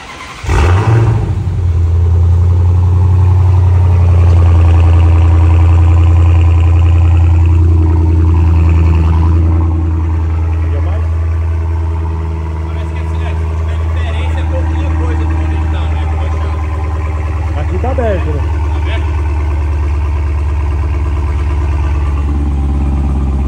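A Dodge Hellcat with a vacuum-operated valve exhaust fires up by remote start, bursting into a loud, deep rumble that settles into a steady, close idle, with voices talking over it.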